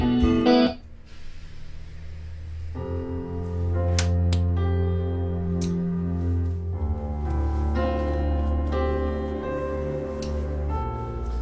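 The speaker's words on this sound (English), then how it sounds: "this is me playing keys, and then that guitar melody is going to come in a second now." A rough instrumental album demo: sustained keyboard chords ring with effects-laden, distorted tones, shifting between held harmonies and brighter melodic notes at a moderate, steady level, with no voices.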